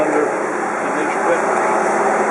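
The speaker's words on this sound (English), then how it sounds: "you can hear the engine fan on since we left it running" A steady whooshing drone of a 2010 Cadillac Escalade ESV's engine cooling fan runs throughout in about 110-degree heat, constant and fairly loud with no pauses.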